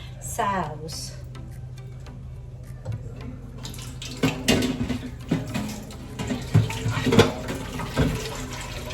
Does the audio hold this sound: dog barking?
no